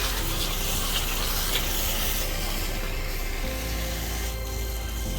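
A pressure washer sprays continuously across a pool deck to strip lichen and heavy algae, a loud, steady close hiss with slight shifts as the spray moves over the surface.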